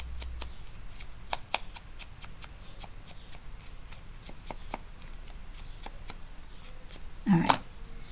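The edges of a paper card are distressed with quick, repeated scratchy scrapes close by. A louder rustle of handling comes near the end.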